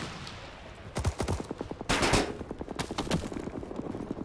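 Gunfire in Rising Storm 2 as a Vietnam War firefight: a few loud close shots, then a heavier burst and rapid rhythmic rifle and machine-gun fire continuing steadily to the end.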